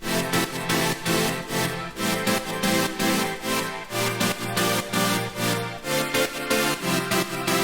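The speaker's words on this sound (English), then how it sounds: "I then just thickened it out with some extra sounds, including some super saws and some other pads" A main drop in an electronic dance remix, thick with super saw synths and pads, pumps in a steady rhythm with choppy gaps between beats, loud and continuous with no vocals.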